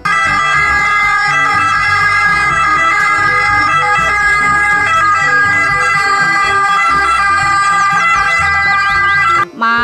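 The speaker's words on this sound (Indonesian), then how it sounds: "Wow, yang ini mobil ambulan." A toy ambulance's electronic siren wails continuously for about ten seconds, a bright, steady, slightly tinny tone close up, stopping abruptly at the end.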